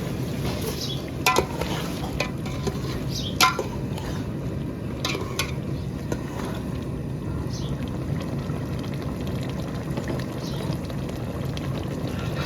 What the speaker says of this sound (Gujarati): મસ્ત મસ્ત તેલમાં ગુમલા ફ્રાય થઈ ગયા છે ને આપણે હલાવીએ